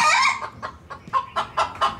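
Chickens in a coop, crossbred birds clucking in a quick series of short calls, close and clear with no talk.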